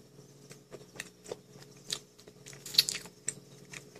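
Someone chews a crunchy Popin' Cookin' donut coated in cookie crumbs and flavored with strawberry and chocolate, with close, irregular crunches and bites in a quiet setting.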